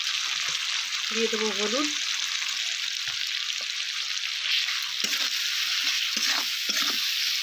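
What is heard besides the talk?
frying and stirring spices in a pan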